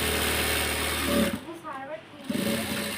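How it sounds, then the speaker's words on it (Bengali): A sewing machine runs steadily while stitching palazzo pants with a doubled seam line, its motor hum dipping briefly midway before resuming; someone talks over it. "এখন ডাবল করে একটা সেলাই দিয়ে দিচ্ছি"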